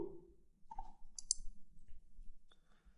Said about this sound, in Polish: Możemy śmiało kliknąć kafelek pulpitu